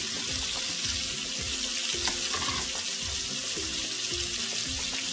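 Red and green peppers with red onion going into a lightly oiled frying pan, a steady hissing sizzle with faint clattering and low rumbling underneath, no speech.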